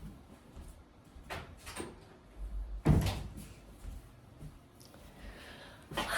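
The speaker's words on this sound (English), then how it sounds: "let me go close the door." A door being closed indoors: one solid thud near the middle, with softer knocks and shuffling handling noises before and after, fairly quiet, and no talking.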